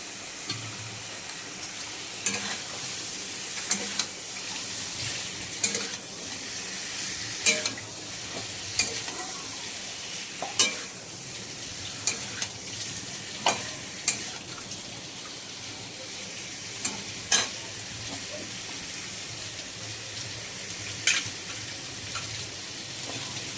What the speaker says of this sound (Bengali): এবার কচুটা দিয়ে দেব